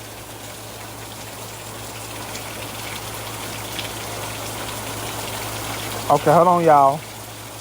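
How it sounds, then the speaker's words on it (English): Steady rain hisses continuously in the background, a broad, even wash of falling water, and near the end someone speaks briefly over it. "That's the rain."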